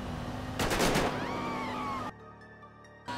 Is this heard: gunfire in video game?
yes